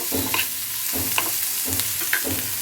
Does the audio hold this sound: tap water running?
no